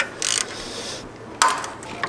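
Close, crisp bursts of a ratchet clicking as it loosens heat shield bolts on a 1JZ car engine: one fast clatter, a pause, then a second burst and a brief final click.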